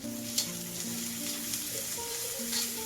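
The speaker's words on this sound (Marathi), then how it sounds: "कांदा थोडा लालसर भाजून घ्यायचा आहे त्यासोबत हे पण भाजून घेतात लसूण अद्रक" Onion, garlic and ginger fry in a pan with a soft, continuous sizzle, fairly quiet and close, while steady tonal hum lines run underneath and a single small clink stands out.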